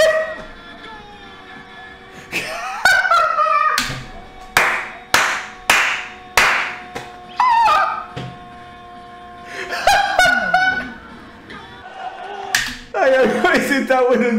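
Claps from a football crowd ring out during a substitution as a player comes on, loud sharp bursts in clusters between stretches of voices, with people talking and reacting throughout.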